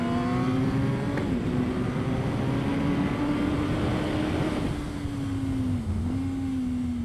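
A race car at Winton Raceway accelerating out of a corner: a steady, loud engine drone that holds one pitch with slight dips, continuous throughout with no talk.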